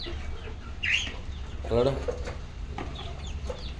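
Chickens clucking in a rural yard, a few short close clucks and squawks heard under and between casual talk.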